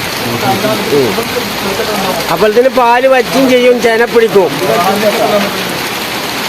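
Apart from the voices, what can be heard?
heavy rain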